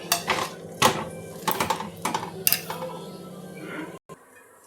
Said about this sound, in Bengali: ভালো করে নাড়িয়ে চাপিয়ে নেব